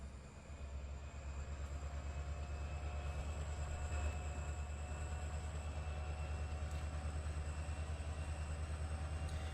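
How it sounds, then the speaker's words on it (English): A Canadian National locomotive in Trainz Simulator 3 hauls autoracks with a steady, continuous rumble and a low engine drone, holding an even level throughout with no talk. "now we're in a different Canadian National train. Or locomotive."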